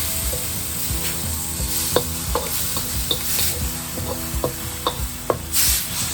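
Cumin seeds sizzle in hot oil in a pan while a utensil stirs and scrapes them, a steady crackling hiss punctuated by repeated sharp clicks and taps of the stirring.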